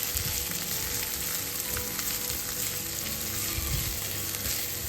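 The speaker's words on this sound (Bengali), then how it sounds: "পেঁয়াজটা আগে একটুখানি হালকা নেড়ে নিই, কিন্তু এখানে পেঁয়াজটার সাথেই ভাজতে হবে" Onion fries in a pan with a steady, close crackling sizzle that holds through the whole stretch, low rumbling stirring bumps underneath and no voices.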